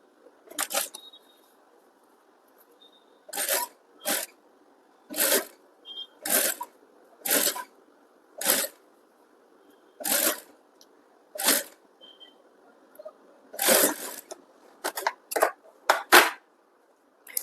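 Sewing machine stitching a princess cut blouse with piping, heard as short separate bursts of fast clattering stitches with quiet pauses between them.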